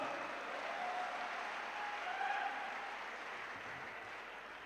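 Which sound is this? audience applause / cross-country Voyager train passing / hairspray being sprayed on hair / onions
audience applause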